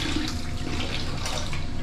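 Running water pours continuously while something is washed, a close, steady rushing stream without breaks or voices.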